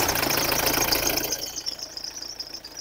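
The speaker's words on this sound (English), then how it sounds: "I'm going to start the car and find out what's going on in engine bay" A 2017 Nissan X-Trail engine with a blocked diesel particulate filter runs loudly with a rough, knocking rumble, then settles into a quieter idle.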